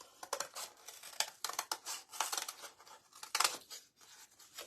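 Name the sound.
cutting paper with big scissors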